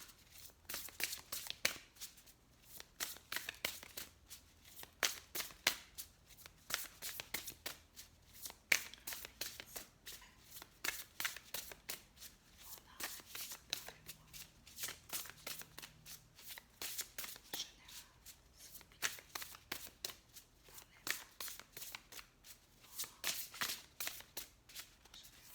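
Cards are shuffled by hand over and over, with crisp riffling bursts and flicks repeating in an irregular rhythm, close and fairly quiet, with no talking.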